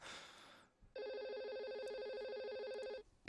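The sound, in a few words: phone ringtone ringing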